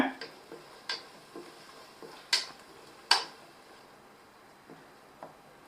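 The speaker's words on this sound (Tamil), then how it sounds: "இதை நல்லா கலந்து விட்டுக்கோங்க" Stirring curd into chicken biryani masala, Hyderabadi dum style, with spaced light ticks and clinks of a spoon against the pot, soft and close, separated by quiet pauses.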